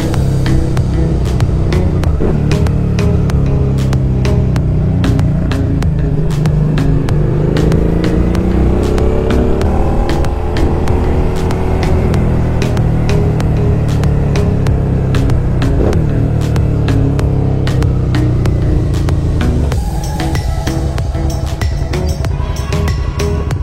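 A motorcycle carrying a first-time passenger, a cousin, rumbles steadily at close range, its engine drone rising and falling through gear changes and curves over continuous loud wind noise.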